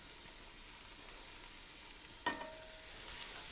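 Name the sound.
onions sizzling in bacon grease in pan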